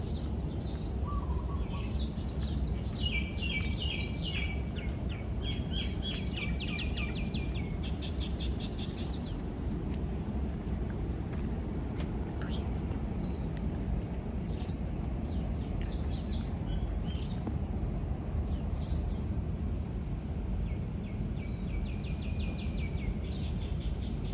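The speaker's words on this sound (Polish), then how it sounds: "dużo ładnych ptaków. Posłuchajcie." Several birds chirp and trill in scattered bursts in Mauritius over a constant low rumble of wind or distant traffic, their calls fairly faint.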